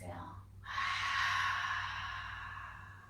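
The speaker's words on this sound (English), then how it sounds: "And then exhale." During a gentle stretching session, one long, soft breath is exhaled through the back of the throat after a brief pause, close and airy, fading slowly.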